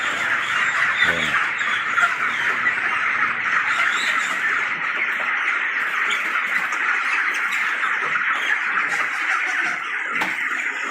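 Thousands of chickens at a poultry farm during harvest make a dense, continuous wall of squawks and clucks, loud and close, with no voices over it.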